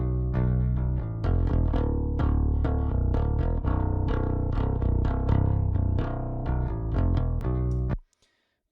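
Bass guitar run through the Neural DSP Parallax distortion plugin, a loud, gritty riff of rapid picked notes with punchy attacks and growling overtones, playing steadily before cutting off sharply near the end.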